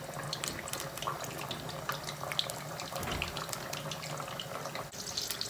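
Eggplant slices sizzle and crackle in moderately hot oil in a pan, a dense, steady frying hiss with fine popping that carries through the whole stretch.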